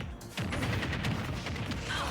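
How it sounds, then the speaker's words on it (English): Grenades thrown by Snake exploding in a Super Smash Bros. Ultimate match, a dense, continuous burst of blasts and crackling game effects at steady volume. "Grenades."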